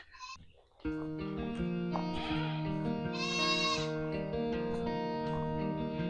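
Goats bleat repeatedly in loud, wavering cries, several animals calling over one another close by.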